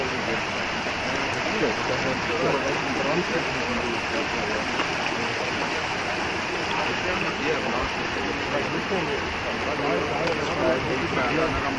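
Water pours steadily at a sewage farm, a continuous broadband rush like a stream or weir that holds level throughout, close and loud, with no talk over it.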